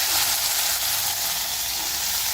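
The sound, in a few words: mustard seeds sizzling in oil in an iron pan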